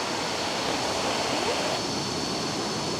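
A waterfall in Thailand pours with flowing water, making a dense, steady rushing roar that stays constant and close, with no voices over it.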